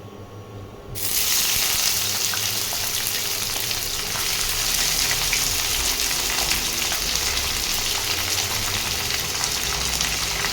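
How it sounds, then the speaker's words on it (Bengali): Chopped onion hits hot oil in a pan with a sudden burst, then a loud, steady close frying hiss that continues evenly with no talk, like heavy rain on a surface. "তেলটা গরম হয়ে গেছে, এখন আমি পেঁয়াজ কুচিটা দিয়ে দিচ্ছি।"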